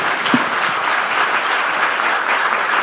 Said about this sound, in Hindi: अब इन्हीं हाथों से जोरदार तालियां बजा दें यीशु के लिए।